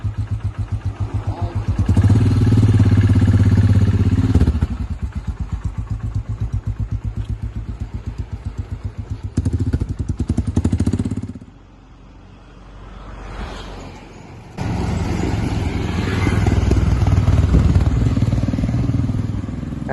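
Motorcycle on the road starting a long ride out of Dehradun toward Bangalore, a steady loud engine drone with wind buffeting, dipping briefly quieter before surging back, with no talking.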